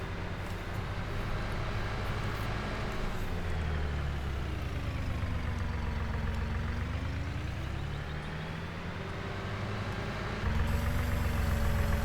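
A tractor engine in Farming Simulator 19 drones steadily with a low rumble and a slowly rising and falling pitch, growing louder and rougher near the end.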